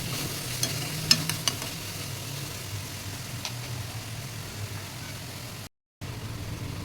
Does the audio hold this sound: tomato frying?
yes